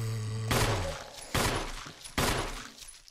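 Three sharp gunshots fired at a zombie in Resident Evil HD Remaster, playing as Jill, spaced nearly a second apart, each a loud crack with a short decaying tail, no talking.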